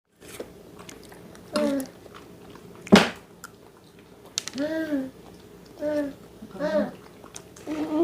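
Crunchy strawberry jam toast being bitten and chewed, a few separate crisp bites and crunches close up, with gaps of quiet and soft voiced sounds between them.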